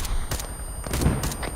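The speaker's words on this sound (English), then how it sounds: "If you can't hit him, Matt, don't worry. Fire." Several sharp bursts of gunfire in a video game battle, spaced irregularly over a short stretch, with loud broadband cracks and low booms against a steady background.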